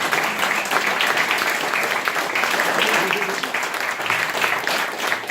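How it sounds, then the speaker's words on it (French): An audience applauds a chef at an evening stop of the Dakar rally, a sustained, loud wash of clapping with voices mingled in. "On va applaudir le chef"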